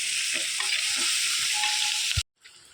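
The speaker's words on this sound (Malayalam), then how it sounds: "ഈ ഉള്ളിയൊക്കെ ഒന്ന് നന്നായിട്ട് വഴന്ന് വരാൻ വേണ്ടിയിട്ട് നമ്മൾ കുറച്ച് സമയം അടച്ചു വെച്ച് വേവിക്കാം" Onions for a fish curry sautéing in a pan, a steady hiss with soft stirring scrapes, ending abruptly as the pan goes quiet.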